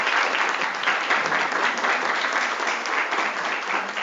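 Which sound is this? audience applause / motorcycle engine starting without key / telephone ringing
audience applause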